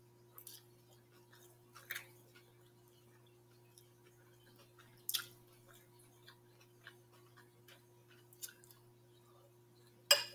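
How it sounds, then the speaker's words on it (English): Someone eating cucumber with sausage and rice, soft close chewing and crunchy bites coming in sparse irregular clicks over a steady low electrical hum, quiet and alone without talk. "It's a lot of chewing."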